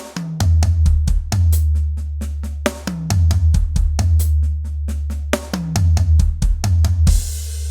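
Fast, loud 32nd-note drum fills sweep around the toms of a drum kit again and again, each run ending on a deep thud, with occasional crash cymbal and no speech.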